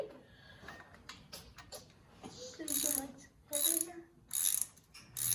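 A ratchet spinning down a bolt during camshaft installation on a 1947 Farmall A tractor, giving quick metallic clicking bursts in several short runs, close by, with quiet shop background between them.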